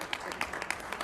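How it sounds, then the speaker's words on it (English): A board meeting audience gives a student a round of applause, a steady wash of clapping from many hands with a few louder individual claps, held at moderate level throughout the second. "So let's give him another round of applause."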